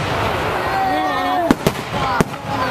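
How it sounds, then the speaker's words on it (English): Canada Day fireworks at Stan Wadlow Park in Toronto in 2011 burst in three sharp, booming pops close together, over a steady outdoor crowd murmur with voices nearby. "Spectacular fireworks."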